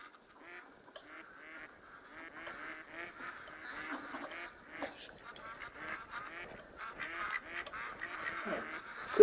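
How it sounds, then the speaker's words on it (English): Ducks quack loudly and continuously in a busy, overlapping chorus that builds toward the end, with many birds calling close by. "them ducks so loud"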